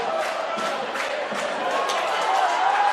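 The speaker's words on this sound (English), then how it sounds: "the crowd are getting involved as an 18th man" Rugby league crowd at a Bradford Bulls match, a steady wash of cheering and roaring voices that stays dense and even, with no clear commentary standing out above it.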